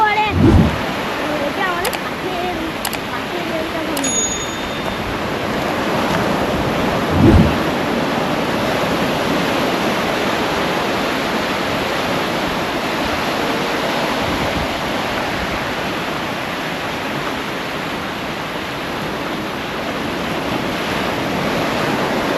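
Sea waves wash onto Puri beach in a steady, broad roar, with a louder surge breaking early on. Surf noise fills the whole stretch, with no clear talk over it.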